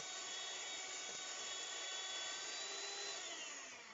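Whisking a chocolate porter ice cream mixture produces a steady, close, continuous whirring that holds at an even level for the whole stretch, with no talking.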